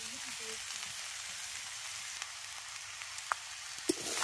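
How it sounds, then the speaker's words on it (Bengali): Vegetable fried rice sizzles softly and steadily in a pan, with a few faint stirring clicks rising toward the end. "আবার ভালো করে দিয়ে একটু ভাজা ভাজা করে নিচ্ছি"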